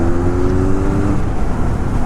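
A Benelli 502C cruiser motorcycle's exhaust note: a steady, close engine rumble with a brief tonal drone early on, loud and continuous with no talk.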